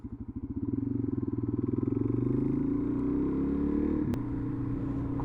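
A Suzuki DRZ400 motorcycle with a noisy big bore exhaust and spark arrestor idles close by. It gives a deep, throbbing thump that steadies into a continuous burbling rumble, with one sharp click partway through.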